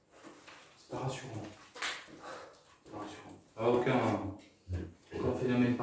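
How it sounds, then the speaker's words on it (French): Dogs bark and whimper outside at night near an old abandoned house, several rough barks in separate bursts, moderately near, with people talking quietly over them. "On a juste entendu des chiens."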